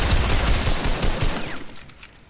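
A burst of automatic gunfire in an online shooter game rattles loud and close, a dense fusillade that fades out over about two seconds, with no one talking over it.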